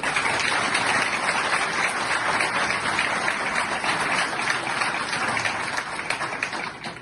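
Sustained applause from a crowd, dense clapping that stays steady throughout before easing slightly at the end.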